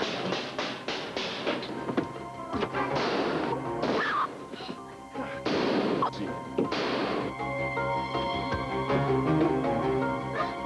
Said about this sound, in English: That shot came from down here.